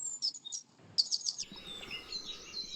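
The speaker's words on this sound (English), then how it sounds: "awake with the birds as, of course, they're singing their dawn chorus" Birds sing the dawn chorus at an allotment early in the morning, with bright chirps and trills in quick bursts, then a busier overlapping twitter over soft background noise.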